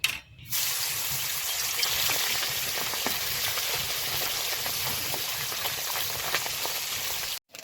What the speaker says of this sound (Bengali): এবার পুঁটি মাছটা ভেজে নেব